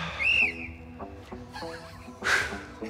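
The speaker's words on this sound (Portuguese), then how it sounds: "Esse apito tá triste" Referee's whistle at a football penalty shootout, one shrill blast near the start and a second short burst later, heard over a murmur of crowd and background voices.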